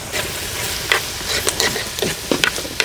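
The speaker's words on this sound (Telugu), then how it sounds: "ఉల్లిపాయలు కొంచెం బ్రౌన్ కలర్ వచ్చే వరకు వేయించుకుందాం" Onions and green chilies frying in hot oil for a country chicken curry, a continuous close sizzle with occasional stirring scrapes and ticks against the pan.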